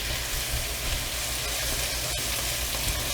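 Long beans frying with pepper and onion in a hot pan, a loud, steady, close sizzle that runs unbroken throughout.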